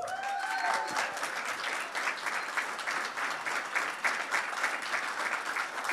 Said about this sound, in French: petite main d'applaudissement